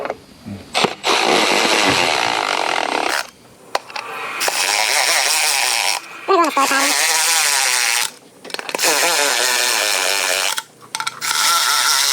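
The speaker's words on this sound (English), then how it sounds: "I'm gonna get my Milwaukee gun and I am going to snug them." A Milwaukee electric impact gun snugs the bolts of a Wilwood TX6R front big brake kit on a 2017 Dodge Ram 1500 R/T, giving several loud, whining bursts of a few seconds each with brief gaps between them.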